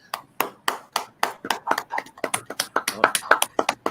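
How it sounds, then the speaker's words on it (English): Close, crisp hand clapping for a wrestling personality on a talk show, a steady run of claps that speeds up and grows fuller toward the end. It sounds like only one or a few people rather than a large audience. "Standing ovation, gentlemen. Come on now. Standing ovation."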